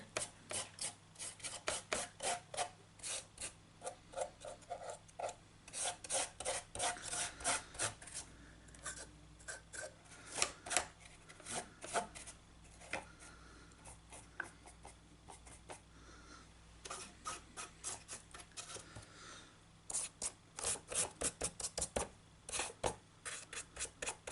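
Dry brush strokes of Necron Compound paint scraped repeatedly across a corrugated model sheet for a Necromunda shanty, a steady run of short rasping scrubs in quick bursts, close and fairly quiet over a low steady hum.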